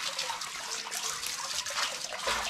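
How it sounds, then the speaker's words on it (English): Water splashes and pours over a septic system component during rinsing, a continuous wet, sloshing wash that runs steadily at moderate loudness with a slightly heavier gush near the end. "splash some water on it"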